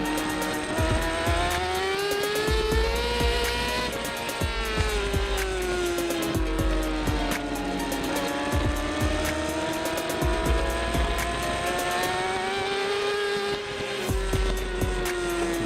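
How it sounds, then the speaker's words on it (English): A Yamaha racing motorcycle with a Spark exhaust screams past at a race meeting, its loud, high engine note rising and falling through gear changes over a long continuous stretch at fairly close range. "That Spark exhaust system on Ryan's Yamaha is just awesome."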